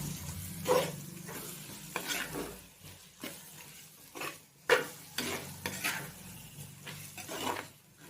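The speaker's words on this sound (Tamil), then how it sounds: "தக்காளி கொஞ்சம் நல்லா வதங்கி வரட்டும்" Tomatoes sauté in a pan for prawn gravy, giving a soft sizzle broken by repeated spatula scrapes and stirring strokes in an irregular rhythm.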